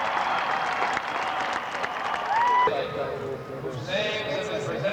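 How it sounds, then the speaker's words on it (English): Dense applause at the 1994 Fordham University graduation on the Rose Hill campus, a steady wash of clapping from a large crowd that shifts partway through, with voices and tones sounding over it. "He gets the biggest ovation applause."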